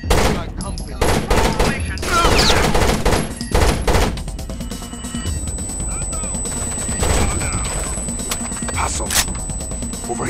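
Rapid automatic gunfire crackles in dense bursts during a firefight in the video game Rainbow Six Vegas 2. The shots are loud and continuous over the first few seconds, then fall to sparser fire and noise.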